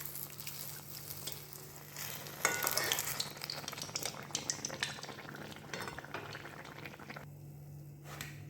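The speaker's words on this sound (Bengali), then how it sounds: "আমি এইভাবে বাকিগুলো সব ভেজে নিয়ে আসছি" Ripe mango malpua frying crisp in hot oil over a low flame, a steady sizzle with bursts of louder crackle and occasional clinks of a utensil against the pan.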